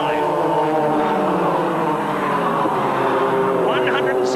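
Formula 3 race cars at Brands Hatch, 160-horsepower 2-litre single-seaters, roar along in a dense, continuous engine drone with shifting pitch, loud throughout under commentary.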